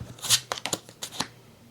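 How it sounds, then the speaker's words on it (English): Cards from a Marvel Champions encounter deck being shuffled, a quick burst of riffling followed by a few crisp snaps and flicks, close and brief. "Shuffle the encounter deck."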